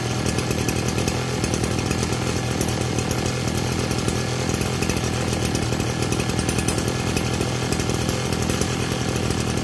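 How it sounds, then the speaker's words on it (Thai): A grass trimmer engine, left running after its fuel was drained until it runs dry, buzzes loudly and steadily at close range for the whole stretch, with no pauses. "เวลาถ่ายน้ำมันเสร็จแล้วเราก็สตาร์ททิ้งไว้เลยนะครับ จนกว่าน้ำมันจะหมดเอง"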